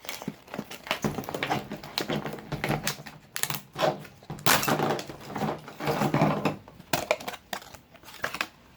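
Cutting open the packaging of a Vivitar DVR914HD action camera, slicing through the instruction manual, heard as close scratchy cuts, crinkling and clattering bursts with no talk.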